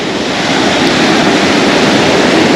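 Ocean surf breaking on a beach during surf fishing for halibut, a loud, continuous broadband wash of crashing waves filling the whole stretch with no talk.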